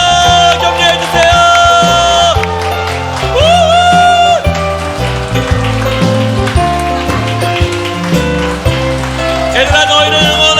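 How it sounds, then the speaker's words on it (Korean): A church congregation claps along during a Sunday worship service, a steady wash of hand claps mixed under loud music that plays throughout. "여러분 더 큰 박수로, 더 큰 박수로 격려해주세요."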